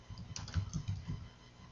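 Brief run of computer keyboard typing as an event title is entered in scheduling software, a quick close patter of soft key clicks with no voices.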